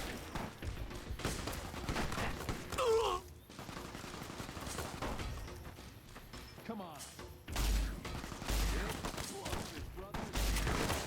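Bursts of gunfire in the Fallout: New Vegas video game, scattered shots and rapid volleys with thuds, heard under a player talking throughout.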